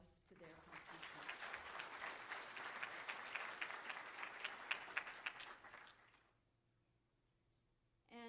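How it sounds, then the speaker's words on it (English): Conference audience at a UIST 2022 session applauding the contest chairs: dense, steady clapping from a large room for about six seconds, then fading to quiet before a voice resumes at the end. "Let's give a round of applause to their contributions."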